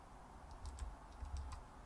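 Soft computer keyboard typing during a digital sketching session, a few quick light key clicks in short clusters, faint and close, with no talking.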